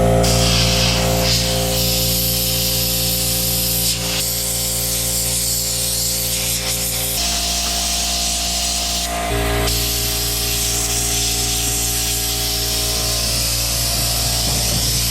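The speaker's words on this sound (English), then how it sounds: "so I'll just take that air compressor and blow out some of that dust" Air compressor nozzle blowing dust out of the trunk of a 1965 Ford Fairlane, a loud continuous hiss of rushing air that shifts in tone as the nozzle moves, steady and close throughout.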